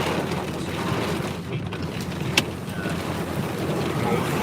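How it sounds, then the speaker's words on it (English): Hail blows in under an overhang during an Oklahoma hailstorm, a steady close roar of ice and wind with a single sharp impact partway through. "First hailstorm. I'm actually under, and it's blowing in and hitting me."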